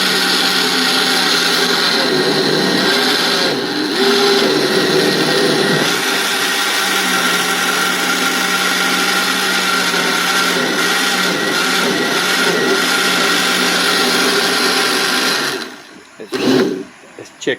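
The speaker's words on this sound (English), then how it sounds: "Blend them up into a paste." A countertop blender whirs steadily for about fifteen seconds, pureeing bananas into a thick paste, loud and close, then cuts off with a couple of short sputters at the end.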